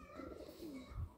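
A Ghasi pigeon gives a single soft, low coo, faint and brief against a quiet background.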